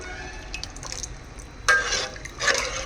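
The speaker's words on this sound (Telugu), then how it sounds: "ఇలాగ మనం కలుపుతూ ఉండాలి ఒక 5 minutes 3 minutes దాకా" Bajji kadhi, a buttermilk curry with fried fritters, being stirred in a pot, with two louder scraping swishes of the spoon standing out over low background noise.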